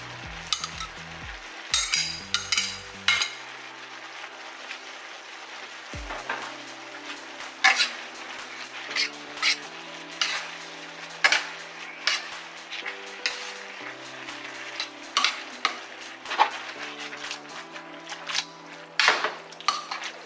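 Cooked spaghetti stirred into a sizzling shrimp tomato sauce in a pan, with a soft steady simmer broken by repeated sharp clinks and scrapes of the utensil against the pan, close up and without talking.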